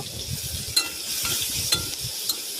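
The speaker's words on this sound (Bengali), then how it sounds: "পেঁয়াজ কুচি দিয়ে আবার নাড়াচাড়া করে নেব" Chopped onion stirred in hot oil in a pan, a steady close sizzle with rhythmic scraping strokes of a spoon and a few light metallic clinks against the pan.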